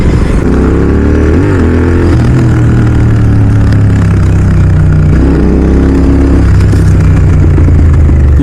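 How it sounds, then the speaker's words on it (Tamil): Royal Enfield GT650 motorcycle fitted with a Red Rooster exhaust, a deep, loud, steady burbling note close by, with a few rev rises and falls and no talking. "எப்படி எக்ஸாஸ்ட் நோட்டு செம்ம ஸ்மூத்தாக இருக்குது"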